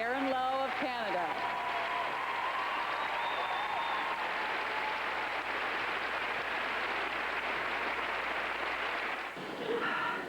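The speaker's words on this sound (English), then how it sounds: "We saw a standing ovation." Sustained applause from a large arena audience giving a standing ovation after a figure skating original dance at the 1999 Four Continents Championships, steady and dense throughout, with a commentator talking over it at the start.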